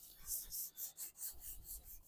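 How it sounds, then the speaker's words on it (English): Rhythmic back-and-forth rasping of sandpaper hand sanding a truck surface before bedliner spraying, about eight strokes in a steady cadence, close and fairly quiet. "I'm gonna hand sand it."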